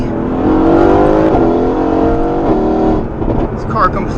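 Tuned Mercedes-AMG daily car, roughly 650 whp, pulling hard in second gear from inside the cabin: a loud rising engine drone with gear-like harmonics, a brief dip, then a turbo blow-off whoosh near the end.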